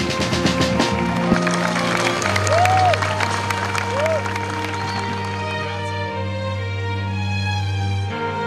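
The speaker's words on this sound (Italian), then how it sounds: "Un applauso!" Audience applause and cheering at a festival mask reveal in Pinerolo blend with loud music and a sustained tone, the crowd noise steady throughout and partly buried.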